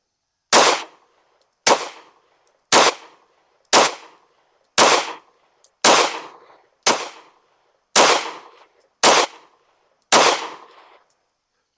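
Ten sharp gunshots from a Kiger pistol fitted with a Gideon Optics Rock sight, fired with factory ammunition, ring out evenly spaced about a second apart, each loud crack decaying quickly, with no talking.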